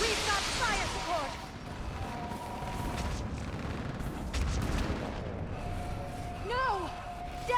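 Battlefield fire support in Mass Effect 3 on Thessia, a steady roar of gunfire and artillery bursts rumbling under combat noise, with pitched electronic whines and shouted voices over it.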